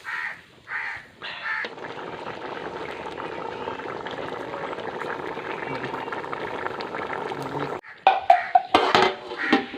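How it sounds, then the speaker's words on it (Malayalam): Homestyle country chicken curry boils in a pot with a steady close bubbling hiss for several seconds, after a few brief sounds at the start and before louder clatter and talking at the end. "അടിപൊളിയായിട്ട് തിളച്ച് വരുന്നുണ്ടല്ലോ"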